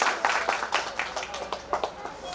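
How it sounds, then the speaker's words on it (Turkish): An audience at a cooking contest gives brief, scattered clapping for a participant, mixed with indistinct chatter from people nearby. "Evet Lale Hanım'ı demek alkışlayalım istiyor arkadaşlarımız"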